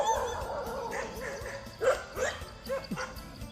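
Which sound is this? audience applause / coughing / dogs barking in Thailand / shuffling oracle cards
dogs barking in Thailand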